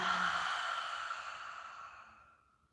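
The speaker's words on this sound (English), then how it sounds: "Inhale through the nose. Open the mouth. Exhale." A single long, breathy exhale through an open mouth follows an inhale through the nose during a yoga breathing exercise. It is close and soft and fades away over nearly three seconds.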